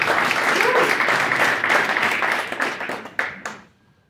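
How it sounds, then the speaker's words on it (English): A crowd applauds steadily with dense clapping that tapers off, a few last claps trailing into quiet. "Let's give him a round"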